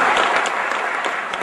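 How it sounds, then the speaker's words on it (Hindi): Dense, steady audience applause, many hands clapping together at a political speech, loud and continuous with no voices on top. "लोग ताली बजा रही है"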